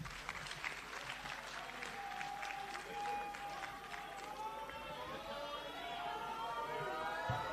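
Delegates at an ANC regional conference in Greater Johannesburg give a round of applause. The clapping is quick and scattered, fairly faint and distant, and fades into murmuring crowd chatter with voices beneath it.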